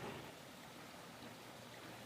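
A small creek tumbles over stones and splits around rocks near a little waterfall, giving a steady, faint, broadband babble of running water with no voices.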